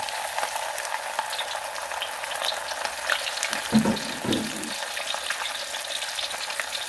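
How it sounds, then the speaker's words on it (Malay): Siakap (barramundi) fish crackles and sizzles steadily in hot oil, a dense bubbling hiss with a couple of brief clatters partway through. "kita goreng ikan kita ni sampai dia betul-betul betul-betul garing lah"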